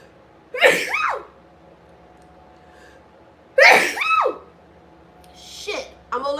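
A person sneezes three times, two strong sharp sneezes about three seconds apart followed by a softer one, each with a quick intake of breath, close to the microphone in a quiet room.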